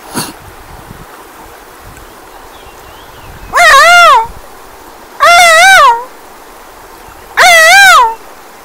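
A man vocally imitates a peacock's call, giving three loud, drawn-out wavering cries spaced about two seconds apart, each clear and close with quiet pauses between.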